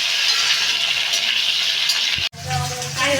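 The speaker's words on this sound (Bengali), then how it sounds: "এবার রাঙা আলু আর এমনি আলু, দুটো আলু এখন দিয়ে দিতে হবে তেলের উপরে দিয়ে এটাকে এখন ভেজে নিতে হবে" Sweet potato and regular potato pieces hitting hot oil with five-spice tempering, a loud bright sizzle that runs steadily, then breaks off briefly with a clatter before the frying hiss resumes with some bubbling.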